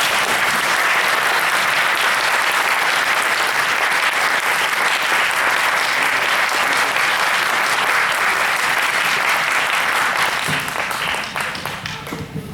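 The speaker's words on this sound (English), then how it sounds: "Clap and let me know" An audience at a talk on Jainism claps long and steadily, a dense, loud, sustained applause that fades out and thins into scattered claps at the end.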